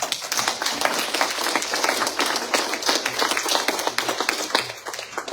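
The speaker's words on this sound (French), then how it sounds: "Vous pouvez l'applaudir." Dense, steady audience applause fills a hall at an official partnership-signing ceremony, many hands clapping together at close range for several seconds without a break.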